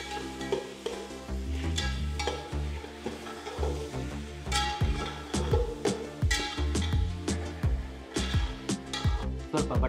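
Tomatoes and cauliflower fry in a pan for wedding-style palak rice, with steady sizzling and repeated stirring clanks and scrapes of a spoon against the vessel throughout.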